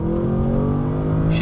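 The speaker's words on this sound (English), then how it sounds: "Akrapovic titanium exhaust, beautiful" Bentley Bentayga Speed with an Akrapovic titanium exhaust pulls on the road, its engine giving a steady, loud, deep drone from inside the car with no talking.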